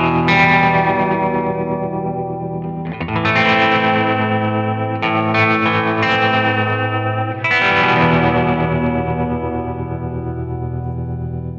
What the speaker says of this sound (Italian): questo è il suono base, sostanzialmente ho solo un po' di ambiente e un tremolo